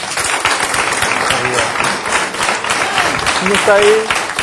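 A TV studio audience on a Portuguese talk show gives a thick, sustained round of applause for an arriving guest, loud and close, with voices talking over it.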